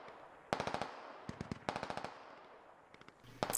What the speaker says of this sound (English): Looks like we got some suppressive fire.